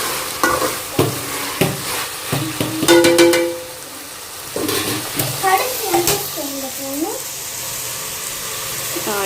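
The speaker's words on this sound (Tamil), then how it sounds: "லோ ஃப்ளேமில் வச்சு கொஞ்சம் அந்த இஞ்சி பூண்டு பேஸ்ட்டு வந்து கொஞ்சம் மிக்ஸ் ஆகட்டும்" Ginger garlic paste frying in a pan on a low flame while biryani is being made, with steady soft sizzling broken by scraping stirs and a few clinks, and occasional muffled sounds over it.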